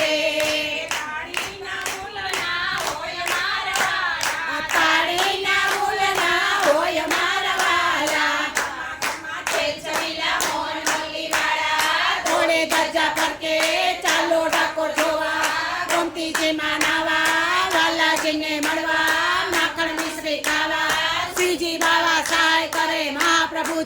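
Steady rhythmic hand clapping keeps time through a devotional Gujarati kirtan, sounding alongside continuous singing voices and accompaniment for the whole stretch.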